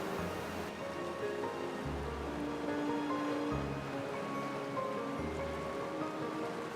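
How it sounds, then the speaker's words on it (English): Ocean waves on the shore at Samcheok, Korea, a continuous soft rushing wash of surf with gentle swells rising and falling, fairly quiet and distant, no voices. "It's very ironic how the rough sounds of the waves just lull you to a place of comfort."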